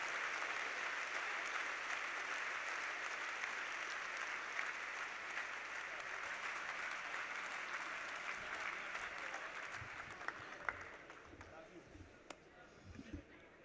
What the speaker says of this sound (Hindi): एक एक व्यक्ति दोनों हाथ आकाश में उठाकर अपनी घनघोर तालियों के साथ जावेद साहब का स्वागत ना करे